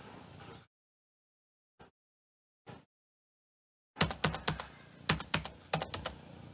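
Computer keyboard typing a command: a few soft isolated keystrokes after a brief sound, a quiet pause, then a quick burst of sharp, close clicking keys.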